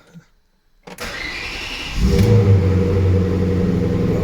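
After a brief silence, a starter cranks for about a second and a Maserati 3200 GT engine catches after its relays were replaced, settling into a steady, rumbling idle.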